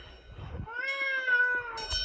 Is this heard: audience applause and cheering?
no